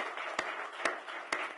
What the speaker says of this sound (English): I'd like for you to give a big round of applause to our panelists